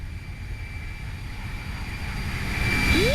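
Simulated airliner flyby in the Toliss A319 flight simulator, an IAE-engined America West heritage jet, a steady broad engine roar building slowly and rising toward the end with a sweeping whine.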